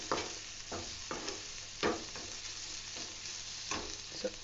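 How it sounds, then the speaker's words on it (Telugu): Mutton pieces sizzle and fry in a pan with pepper and spices, with steady crackling broken by several scraping stirs of a spoon at irregular intervals, close and moderately loud, no voices. "కొంచెం ఫ్రై అయిన తర్వాత ఇందులో మనం మటన్ పీసెస్ యాడ్ చేసుకుందాం."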